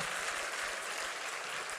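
A church congregation applauds at a sermon, a brief, fairly faint wash of clapping heard at a distance.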